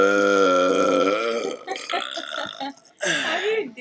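A long, loud, deep burp from a drunk kid rumbles close up for about a second and a half, followed by voices talking and laughing.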